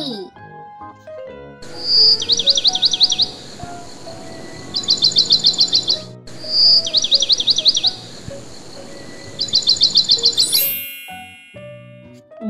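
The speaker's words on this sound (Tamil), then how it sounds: "sparrow சிட்டுக்குருவி. sparrow சிட்டுக்குருவி." Bursts of rapid, high-pitched sparrow chirping come in four short trills, fairly close and loud, over a soft hiss of background noise.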